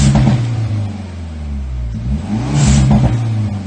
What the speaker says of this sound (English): rev it, get the blow-off valve going